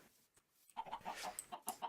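Chickens clucking in the block-building game Sky Factory 3, a run of short, fairly loud clucks and chirps in an irregular rhythm after a brief quiet start, with no talking.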